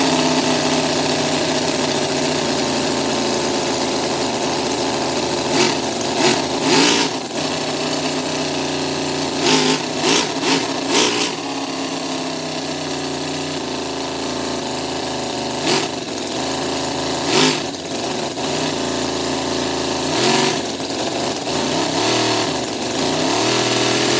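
A Toyan V8 model engine runs after starting, a buzzy high-pitched idle chatter held steady, with repeated brief revving bursts and pops spaced through the run.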